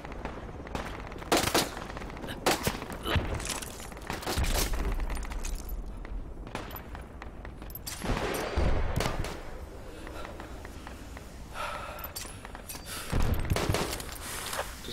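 Enemy gunfire from a forward operating base in Project Reality, repeated sharp bursts and single cracks scattered across the stretch, some loud and close, others more distant, with heavy booms between.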